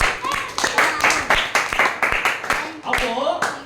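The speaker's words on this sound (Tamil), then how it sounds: "ஜோர கைத்தட்டுங்க" A church audience claps along during a Tamil Bible story session, a steady run of sharp hand claps repeating roughly every half second, near and lively, with a voice speaking over them.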